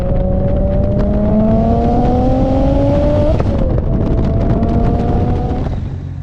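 A BMW 335i with a built motor and a single 6466 ball bearing turbo accelerates hard. The engine note climbs steadily, drops briefly at a gear shift, then rises again. It is loud and close, with no talking.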